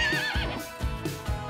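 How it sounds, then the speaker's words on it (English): A horse whinnies loudly and close by, its wavering high neigh rising and falling over about a second and a half, with a few low thuds that may be hooves. "A baby horse is called a foal."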